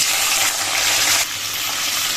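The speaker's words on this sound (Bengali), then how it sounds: "আর এই তেলের মধ্যে দিয়ে দেবো হচ্ছে ছিম" Flat beans tipped into hot oil left over from frying potatoes, bursting into a loud, close hiss that drops off sharply partway through and then settles to a softer sizzle.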